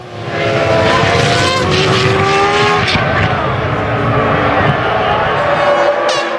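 Rubens Barrichello's V10 Formula 1 car from the 2001 season roars loud and close, a sustained high-revving engine scream with shifting pitch that holds steady throughout, with a faint crowd beneath.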